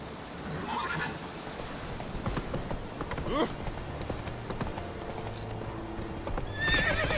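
Roach the horse in The Witcher 3 game: steady hoof clip-clop runs throughout with a couple of neighs and whinnies, while a voice talks over it.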